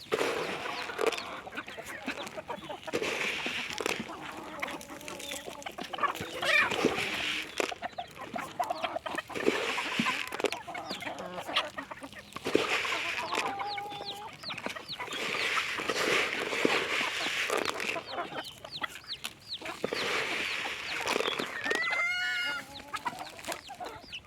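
Chickens being let out on a farmyard cluck and chatter near and far in overlapping bursts, a busy flock with no talk over it.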